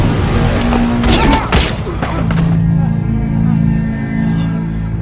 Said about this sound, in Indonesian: Hingga saat itu juga terjadilah baku tembak